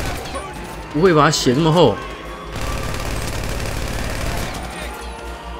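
Steady automatic gunfire aimed at Deadpool in GTA 5, a long continuous rattle that follows an excited spoken exclamation.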